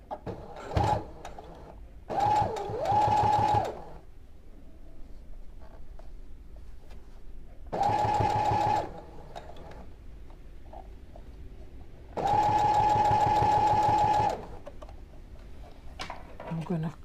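A sewing machine stitches a baby's pillowcase dress in reverse for reinforcement, whirring in four short bursts of one to two seconds each, separated by quiet pauses.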